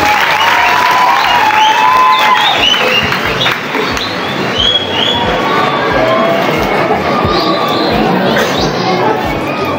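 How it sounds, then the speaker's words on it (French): A congregation at a children's Mass and building blessing applauds a student. The clapping is loud and sustained, mixed with cheers and crowd chatter, and voices are heard throughout. "Applaudissez pour cet élève."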